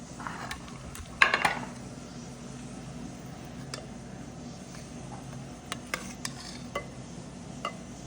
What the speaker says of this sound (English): And now goes the gravy.